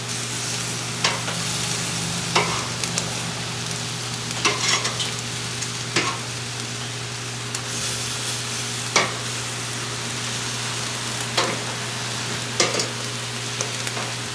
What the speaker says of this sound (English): We're just going to give them a nice good sear and really seal in that flavor.